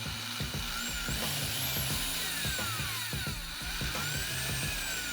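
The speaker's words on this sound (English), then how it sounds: "So I decided to drill only a small hole in each one" A small power drill whines steadily at close range, its motor pitch wavering as it bites into a plastic peg, running continuously with no voices.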